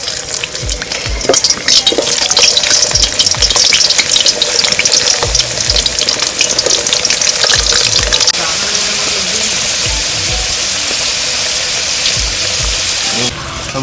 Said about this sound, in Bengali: তেল গরম হয়ে গেছে, আলুটা ভাজবো